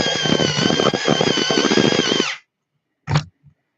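Colouring pencil ground in an electric pencil sharpener, a loud whirring buzz for about two seconds that stops abruptly, followed by one short burst.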